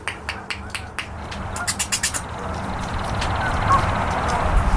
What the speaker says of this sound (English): about 50 geese going from left to right